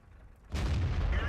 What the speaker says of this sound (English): we hear the artillery missed me there